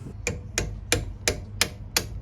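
A stuck pinch bolt is hammered out of a Volkswagen Golf R32 hub, giving six sharp metallic whacks at a steady rhythm, close and loud, with no talking.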